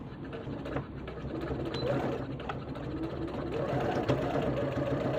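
A sewing machine runs steadily while stitching a fabric face mask, a close, continuous whirring hum with fine rhythmic needle ticking throughout, fairly loud and uninterrupted, with no voices.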